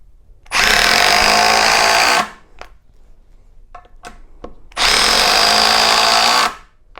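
A Milwaukee Surge driver runs screws into wood in two loud, steady whirring runs, each about two seconds long, with brief clicks and quiet gaps in between.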